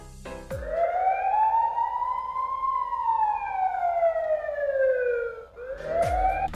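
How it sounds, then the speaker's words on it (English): A toy vehicle's built-in police siren rises and falls in one long loud wail, then starts again after a brief gap, with a couple of clicks at the start and end. "You can change this to police car sound by plugging this plug on the top one."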